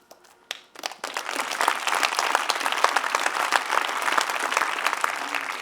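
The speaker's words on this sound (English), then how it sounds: "we should probably cut the applause, otherwise it will just go on" Sustained applause from a large conference audience at a London awards and conference event, building quickly after a few scattered opening claps and continuing dense and steady with no talk over it.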